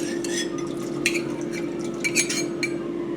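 A cornstarch and water slurry is stirred into sauce in a pot, giving close, soft scraping and light clinks of utensil against metal over a steady background hum, with no talking.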